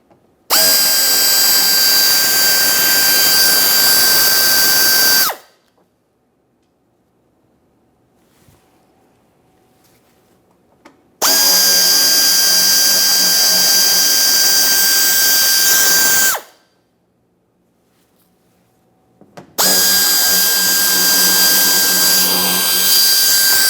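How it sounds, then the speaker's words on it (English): A power driver with a T15 bit whines loudly in three separate bursts of about five seconds each, backing out mounting screws in the wheel well of a 2017-2024 GMC Acadia, with near silence between the runs. "We'll be making our way up along this area using a T15 to remove all 3 of these mounting bolt"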